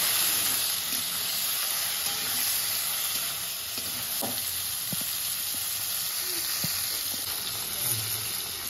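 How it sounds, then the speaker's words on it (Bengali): Okra sizzling steadily in hot oil, a continuous close frying hiss with occasional clinks and scrapes of stirring. "আমি ভেন্ডিটাকে ভালো করে ভেজে নিয়েছি"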